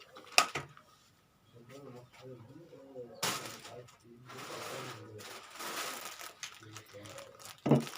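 A plastic bag holding a set of brushes is handled and crinkled, giving rustling and crackling bursts with a couple of sharp clicks, while someone talks throughout.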